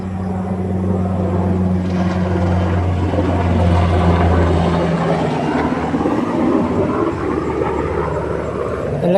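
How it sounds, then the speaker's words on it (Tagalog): A large helicopter passes over a rural planting field, its loud, continuous rotor rumble and engine drone filling the whole stretch without a break. "Ang laki yung helicopter."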